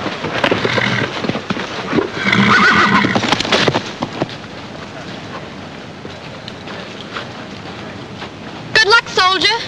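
A horse whinnies loudly and hooves clip-clop in an army stable scene from a Laurel and Hardy comedy, with voices talking in between and a final sharp neigh near the end.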